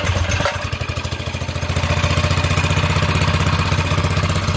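A Wildcat 223cc small engine starts and settles into a steady, loud, rhythmic running putter close by, with no talking.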